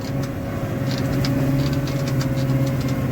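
Massey Ferguson Dyna-6 tractor working a field at low speed, a steady diesel drone with a constant low hum and faint rhythmic clatter, continuous and fairly close.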